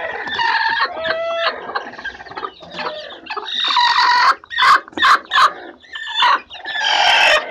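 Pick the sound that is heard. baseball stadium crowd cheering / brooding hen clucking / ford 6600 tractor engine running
brooding hen clucking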